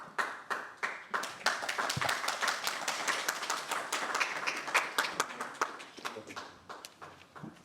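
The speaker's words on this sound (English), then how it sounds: "it's so nice to have applause first thing in the morning" Audience at a morning academic symposium at the Bible Lands Museum in Jerusalem applauds for several seconds, a dense patter of hand claps with sharp individual claps standing out, fading slightly toward the end.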